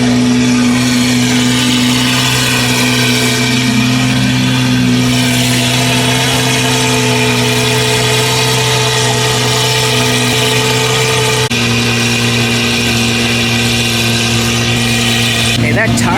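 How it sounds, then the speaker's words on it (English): A Lamborghini Aventador SVJ at a car meet starts up and settles into a loud, rumbling idle that holds steady and close throughout, with a brief surge near the end. "That SVJ started up."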